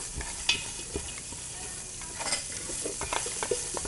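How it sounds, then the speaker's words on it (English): Minced garlic sautes in a hot pan, a steady close sizzle broken by scattered clicks and scrapes as it is stirred, with no talking. "let's go ahead and saute this now"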